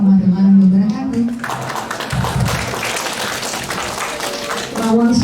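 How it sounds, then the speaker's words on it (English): Audience applause for speakers at an English language and literature international conference, a broad wash of clapping in the middle of the clip with a voice speaking over the loudspeaker before and after. "Once more, give a big applause to our speaker."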